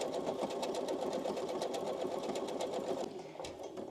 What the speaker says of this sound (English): holding it against the 5/8 seam line and letting the machine do the work